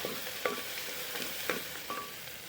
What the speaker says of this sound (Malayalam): സവാള ഇട്ടു, തക്കാളി ഇട്ടു, അതൊന്ന് വഴണ്ട് വന്നിട്ടുണ്ട്.